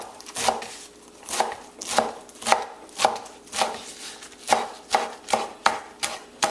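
A knife chops callaloo leaves rhythmically on a cutting board, about fourteen crisp, evenly spaced strikes with no talking.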